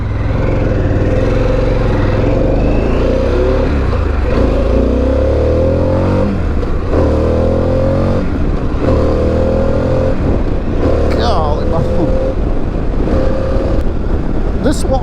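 Harley-Davidson Pan America motorcycle engine on a test ride, revving and pulling through rising gear-like sweeps, loud and close with steady wind rush over the microphone and a voice talking at times.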